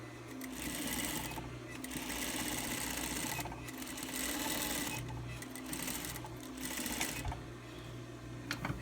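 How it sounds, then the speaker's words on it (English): A sewing machine stitches two fabric pieces of a six-panel cap together, running steadily and fairly loud through most of the stretch, with a few short pauses between runs. "you sew your two pieces together there"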